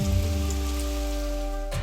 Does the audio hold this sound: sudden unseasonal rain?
yes